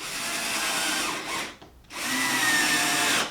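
Power drill driving screws to fasten a clamp with brackets for a homemade woodworking vise, two loud close whirring runs separated by a brief pause, no talk.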